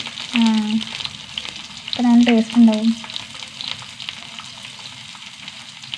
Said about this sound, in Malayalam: മാന്തള വറുത്തെടുക്കട്ടെ കേട്ടോ